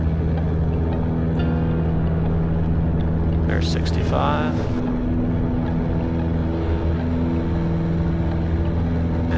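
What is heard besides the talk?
airplane engines at full power during takeoff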